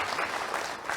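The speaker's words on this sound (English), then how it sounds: "Can we have another round of applause for Jamila?" A brief burst of audience clapping at a live eye-health conference session, moderately quiet and continuous for its short length.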